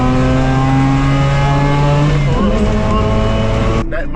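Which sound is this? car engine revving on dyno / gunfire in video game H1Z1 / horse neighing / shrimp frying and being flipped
car engine revving on dyno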